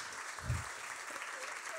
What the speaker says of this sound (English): So a huge round of applause to the organizers,